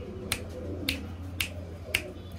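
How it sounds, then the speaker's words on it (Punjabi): Four crisp finger snaps, evenly spaced, call a pet pigeon over a quiet steady hum. "ਚੁਟਕੀ ਤਾਂ ਚੱਲਦੀ ਹੈ ਪੂਰੀ"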